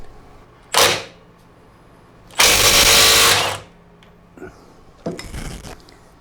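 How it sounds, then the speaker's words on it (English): Impact driver removing a rear suspension bolt on a Suzuki DR650 motorcycle: a short hammering burst, then a longer loud rattling run of about a second, followed by a briefer burst, close and loud with quiet gaps. "I'm going to use my impact driver for this"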